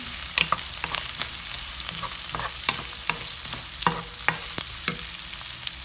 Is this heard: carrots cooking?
yes